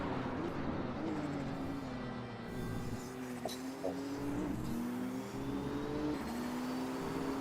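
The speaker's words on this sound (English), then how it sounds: "That turbo noise from the BMW is just beautiful, though." A BMW race car's turbocharged engine in a racing video game, a steady droning engine note with rising and falling pitch, faint and continuous without speech.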